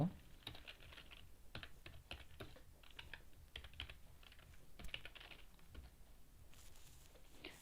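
Computer keyboard typing in quick irregular bursts of soft key clicks, quiet and close, with no talk.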